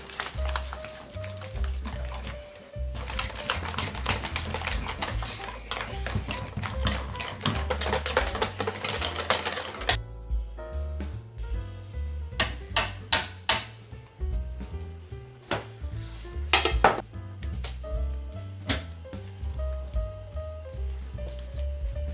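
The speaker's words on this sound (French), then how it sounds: "on va pouvoir mélanger au fouet" A whisk beats cake batter of eggs and butter in a bowl, making rapid, close, rhythmic clicking and tapping that goes on throughout, with no voices.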